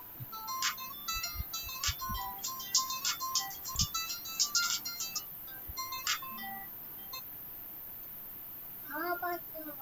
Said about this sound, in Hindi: फोन आया भाई।